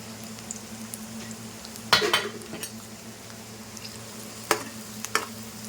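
Onions frying in a pan while making fish curry give a steady low sizzle, broken by a few sharp stirring scrapes and clinks of a utensil against the pan.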